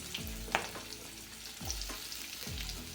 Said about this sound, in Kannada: ಒಂದು ಗೆಡ್ಡೆ ಬೆಳ್ಳುಳ್ಳಿ ಹಾಕಿ ಅದನ್ನು ಚೆನ್ನಾಗಿ ಫ್ರೈ ಮಾಡ್ಕೊಳ್ಳಿ